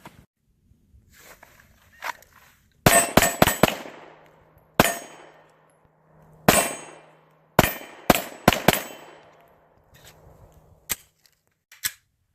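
Hudson H9 pistol fired at steel targets outdoors at about 21 yards, sharp loud shots in quick clusters of three to four with ringing metallic clangs and brief gaps between strings, a few lone shots near the end.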